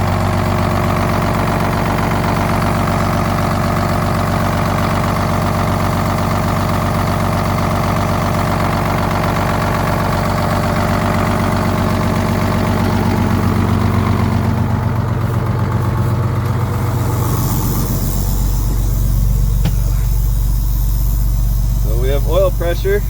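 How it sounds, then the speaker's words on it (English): A Louisville truck fitted with a muffler idles after a cold start, its loud, steady low rumble running throughout, with the tone shifting somewhat toward the end. "I did end up putting a muffler on this truck because when you're going down the highway, you can hear it from like 10 kilometers away."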